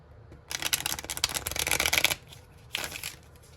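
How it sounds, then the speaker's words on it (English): Tarot cards being shuffled in a quick riffling burst lasting over a second, then a shorter second shuffle after a brief pause, close and crisp. "I'm hearing to shuffle twice."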